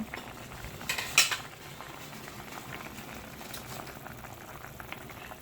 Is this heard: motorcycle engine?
no